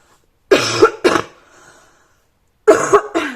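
A person recovering from bronchitis coughs twice in quick succession, then after a pause gives two more harsh coughs, close and loud.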